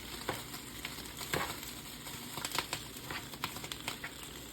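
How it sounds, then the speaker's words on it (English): Tuscan chicken pasta sauce with spinach sizzles and crackles quietly in a hot pan, an uneven run of small pops and hisses with faint stirring. "The sizzling is the bottom of this pan."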